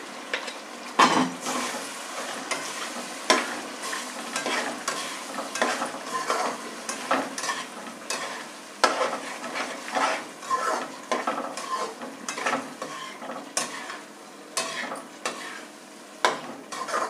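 A spoon scrapes and stirs sarson ka saag (mustard greens) into a tomato, garlic and chili tadka over a steady sizzle, with irregular clinks and scrapes throughout.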